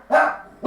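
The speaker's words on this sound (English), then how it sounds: "Sorry, it's my dog. In the background." A pet dog barks twice indoors in the background at home, two loud, close, sharp barks with a short pause between them.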